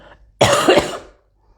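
A single loud cough bursts out close to the microphone, one sharp throat-rasping hack that trails off into quiet, with no talk around it.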